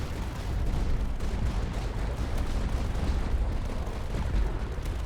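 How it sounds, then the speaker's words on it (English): Mortar artillery in the strategy game Tower Dominion produces a continuous low, rumbling barrage of dense muffled blasts that keeps an even loudness throughout. "Get a little mortar going."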